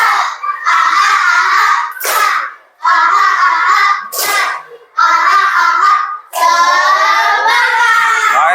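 A group of schoolchildren performs a rhythmic spirit clap routine, loud bursts of unison clapping interleaved with shouted chanting in a repeating pattern, several phrases in a row.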